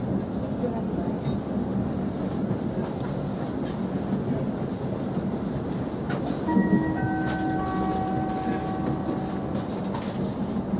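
Thameslink Class 700 Desiro City train running on rails between Shortlands and Bromley South, a steady rumbling ride noise with brief tonal whines from the traction motors, heard from inside the carriage throughout.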